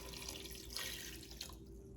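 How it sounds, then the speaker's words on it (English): Water pours steadily into a big stock pot holding figs for jam, a continuous close splashing stream with no talk. "then we add our 3 1/4 cups of water"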